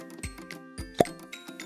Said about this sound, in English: Let's open the can with green sand.